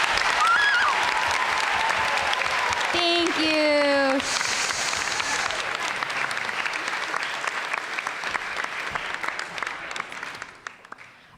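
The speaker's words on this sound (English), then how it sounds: "let's have a nice round of applause for our wonderful steering committee members" A conference audience at a general assembly gives a sustained round of applause for steering committee members, loud dense clapping that holds for about ten seconds before tapering off, with a brief spoken thanks over it.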